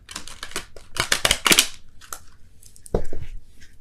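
Tarot cards being shuffled give close, sharp bursts of riffling clicks and snaps, a dense flurry followed by a few scattered taps and a final shuffle.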